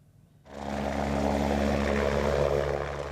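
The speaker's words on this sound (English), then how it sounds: "The distinctive sound of the Air Ambulance helicopter has become a lifeline for people." An air ambulance helicopter starts up loudly and holds a steady, droning roar with a low rotor hum, close by and continuous with no voices.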